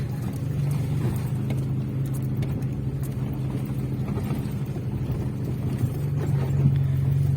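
A Lada Niva drives along a dirt track through scrub toward grazing sheep, its engine a steady low drone throughout with a slight swell near the end.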